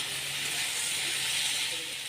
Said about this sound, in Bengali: এবার হালকা ভেজে নেব ছাতুগুলোকে।